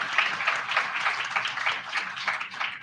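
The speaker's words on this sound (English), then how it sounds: "So round of applause for our panelists." An audience at a petroleum industry chapter meeting gives its panelists a steady round of applause, with dense overlapping clapping that lasts about three seconds.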